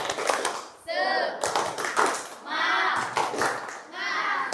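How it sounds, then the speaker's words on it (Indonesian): A classroom of children does a rhythmic cheer clap, with bursts of quick hand claps alternating with the kids chanting together, lively and fairly close. "Oke, tepuk semangat."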